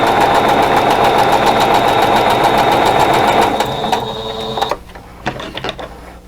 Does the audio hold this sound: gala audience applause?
no